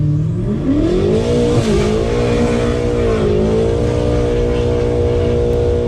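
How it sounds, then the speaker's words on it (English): A BMW M8 Competition's 625 bhp engine revs hard through first, second and third gears on the Goodwood hill climb, with the rear wheels spinning. The engine note is loud and close, and its pitch rises and drops with each gear change. "625 bhp going through the rear wheels and lighting them up all the way through, first, second and third through the Goodwood Hill climb"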